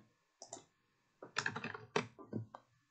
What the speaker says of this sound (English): Now let's type something random again.